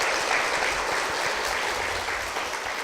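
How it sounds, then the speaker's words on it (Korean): Audience applause for a church member walking onto the stage at a Korean church event, dense steady clapping sustained throughout at a fairly loud level. "박수 부탁드립니다."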